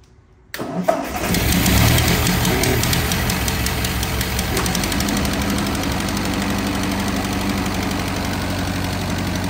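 An old Ford tractor engine cranks and catches, then settles into a loud, rough, knocking idle that runs on steadily.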